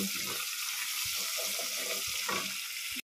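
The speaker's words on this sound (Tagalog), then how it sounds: "nilagyan ko ng konting tubig para magiging paste yung tomato and onion" Water poured into a pan of cooking tomato and onion sizzles and hisses steadily, with a broad, continuous frying noise throughout and faint kitchen clatter beneath.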